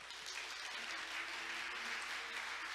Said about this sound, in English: Let's give Mr. Byung-gil An another big round of applause.